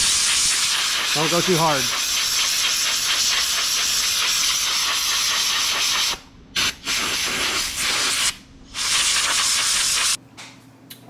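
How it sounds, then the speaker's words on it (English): Compressed air blasting from a nozzle through a foam air filter on a 2025 Can-Am Outlander XMR ATV, a loud steady hiss with brief gaps in the last seconds, while a voice speaks briefly near the start. "come in here, some light compressed air. You're gonna blow any extra sand out that's in that filter."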